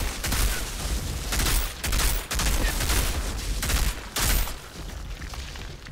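Dense gunfire from the shooter game Outriders, rapid bursts and volleys crackling almost continuously with a few heavier booms, loud and close with no talk over it.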